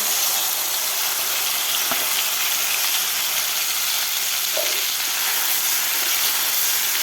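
Spice masala sizzling in hot oil in a kadhai, a steady loud hiss that holds evenly from start to finish with no talk.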